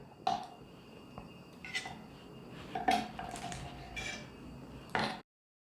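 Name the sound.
knife cutting octopus tentacle tips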